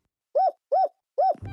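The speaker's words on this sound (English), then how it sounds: "These hoots make different sounds." Three evenly spaced, clear hoots from a cartoon horned hoot creature, each a short rising-falling call, followed by a burst of cartoon music at the end.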